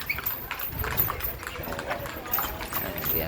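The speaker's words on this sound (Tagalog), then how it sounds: "Ayan, may parating maliit" Small horse walking along a street in Calle Crisologo, hooves clip-clopping in a steady rhythm at moderate distance, with people talking over it.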